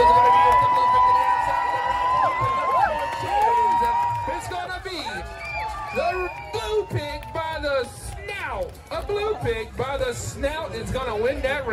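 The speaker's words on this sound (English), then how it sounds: "are you guys ready to cheer them on? I need to hear some noise." Crowd at a county fair pig race cheering, whooping and yelling over an amplified announcer's voice, a loud, continuous din with scattered shouts throughout.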